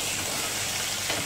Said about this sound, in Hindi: प्याज को पिंक होने तक फ्राई कर लेंगे